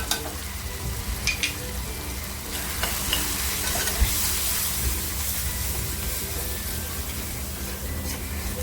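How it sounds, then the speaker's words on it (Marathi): Spices such as turmeric and red masala fried in a pan with salt for a small-shrimp masala, producing a steady close sizzle with scraping stirring strokes and occasional clicks of the spoon against the pan. "मसाले ना आपल्याला छान फ्राय करून घ्यायचे"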